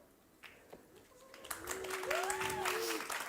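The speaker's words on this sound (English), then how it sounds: "So maybe a little bit of cheering." An audience at a boxing-ring-style event claps and cheers for the red corner, starting sparse and quickly building into a loud, sustained burst of applause, with a voice audible early on.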